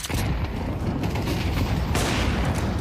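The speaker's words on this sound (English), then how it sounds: "Flashbang." A flashbang grenade detonates in a video game amid a dense, roaring wash of gunfire-like noise and booms that stays loud and steady throughout, with no break into quiet.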